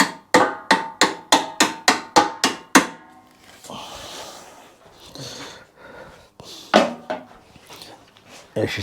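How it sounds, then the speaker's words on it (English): A small hammer strikes metal nuts and bolts on a Royal Enfield motorcycle: about ten sharp, evenly spaced ringing blows, then quieter shuffling and scraping with a few more hits near the end. "If you see me hammering nuts and bolts, don't worry"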